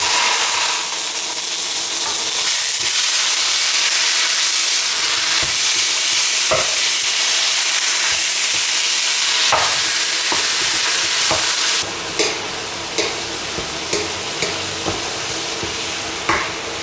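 Ground mincemeat frying and being stirred in a pan, a steady loud sizzle throughout with the scrape of a utensil clicking against the pan repeatedly near the end.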